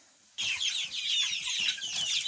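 Chickens on a small farmstead cluck and chatter close by, loud and busy after a brief quiet start, with overlapping calls and a few low thumps of movement.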